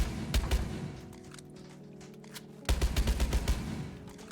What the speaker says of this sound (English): you want to grab your deagle and you want to shoot out the floor from below